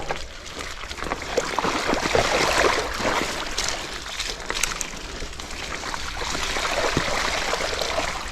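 Water in a shallow stream splashes and rushes as a mountain bike crosses it on a trail by a slag heap, a steady broadband wash up close with scattered clatter throughout.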